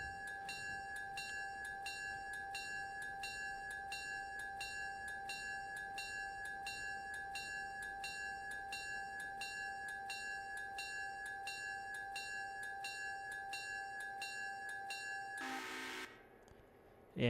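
Banana train slowing for a station stop in the Railroader video game, a quiet steady ringing crossing-style bell repeating in even rhythm for about fifteen seconds, then a brief hiss of air release near the end, no talking.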